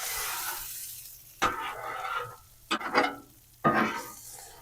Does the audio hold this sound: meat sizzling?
yes